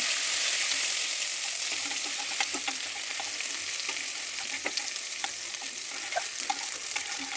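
Ginger garlic paste fries in a pan with a steady, bright sizzle, punctuated by scattered pops and crackles and the occasional scrape of stirring, close and clear with no voices.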